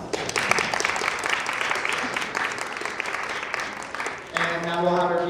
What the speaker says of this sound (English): I'd like to thank both candidates with a round of applause.